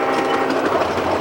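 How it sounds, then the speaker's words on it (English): The Tea and Sugar freight train crossing the Australian outback between Port Augusta and Kalgoorlie, a loud close clatter of rolling freight cars with a steady rumbling drone. "This clattering collection of freight cars is the sole supplier to 13 tiny towns"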